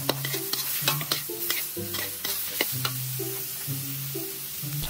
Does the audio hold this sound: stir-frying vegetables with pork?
yes